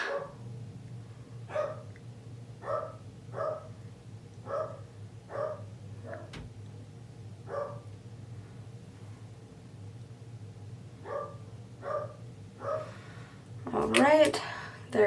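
An old dog, sixteen years of age, barks repeatedly at home, sharp evenly spaced barks at moderate distance over a low background hum, ending in a louder cluster of yips and a whine.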